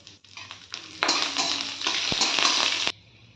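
Peanuts and curry leaves frying in a pan for poha, with a steady bright sizzle that swells loudly as the leaves hit the hot oil, close up, with a few light stirring knocks and no talk.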